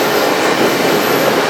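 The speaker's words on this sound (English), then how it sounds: "Train ain't slowing down. I'm wondering if this intermodal just goes straight through Jefferson City." An intermodal freight train rolls through Jefferson City by the Missouri River without slowing, a loud steady close roar of wheels and rail clatter.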